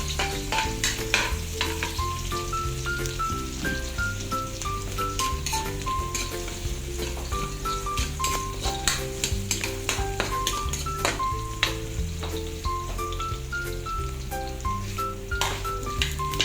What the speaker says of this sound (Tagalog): Una tayong magsa ng bawang.